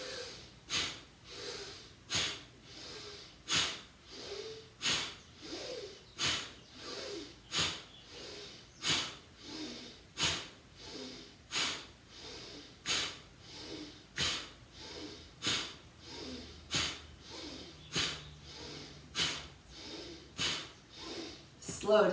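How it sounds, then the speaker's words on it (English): Deep breathing during a yoga session: strong, forceful breaths in a steady rhythm, roughly one every second for about twenty seconds, close and distinct. "take a deep exhale. And then inhale, exhale, inhale, exhale"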